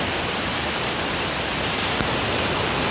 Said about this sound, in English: walk right here where the water runs right over your feet